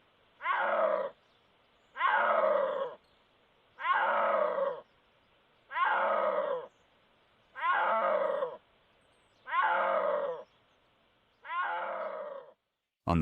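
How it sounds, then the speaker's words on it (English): A snow leopard gives a series of seven resonant, moaning calls in the Himalayas, each about a second long and evenly spaced roughly two seconds apart, loud and close with quiet gaps between them. "the snow leopard cannot roar. Instead, it produces resonant calls that can carry across an entire river"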